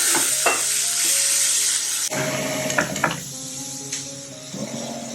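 Chopped onions and capsicum frying for pav bhaji in a home kitchen pan, a steady hiss of sizzling with scraping stirs and a brief splash of water partway, close and continuous with no talk.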